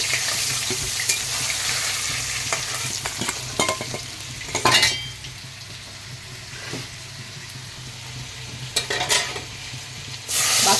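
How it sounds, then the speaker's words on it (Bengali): Magur catfish pieces fry lightly in hot oil, a steady close sizzle with crackling bursts and occasional stirring or scraping, no voices. "খুব বেশি ভাজবো না হালকা করেই ভাজবো মাছগুলোকে"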